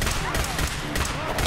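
Rapid gunfire from a Fallout 4 firefight rattles in a dense, continuous burst of close, loud shots.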